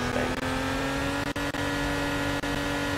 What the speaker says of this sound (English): It does also get up to its top speed really fast, which is surprising in a car like this.